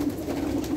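A pigeon gives a soft, low coo, one brief murmuring call, faint and close in a quiet pigeon loft.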